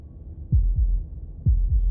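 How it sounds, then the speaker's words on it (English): Slow, deep heartbeat in the game Slay the Princess, two paired thumps heard twice, loud and close with no voices over it. "That was the sound of a heartbeat, followed by another, and another."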